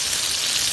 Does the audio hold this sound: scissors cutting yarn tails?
no